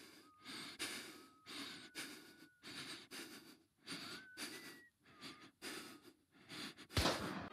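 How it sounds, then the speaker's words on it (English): Character Cole breathing in the stealth video game Get Even, a series of close, rhythmic breaths with audible inhales and exhales, quickening in short bursts and ending in a sharper gasp. "I noticed small details which add so much to the atmosphere, like Cole's breathing."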